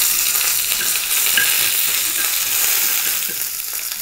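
A tempering of chana dal, urad dal, dried red chillies and curry leaves sizzles loudly in hot oil for an onion chutney, a dense, steady crackling hiss close up with no voices.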